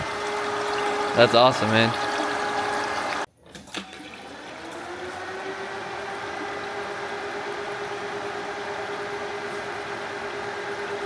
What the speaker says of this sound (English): But our intercooler pump's working and our fans are pushing.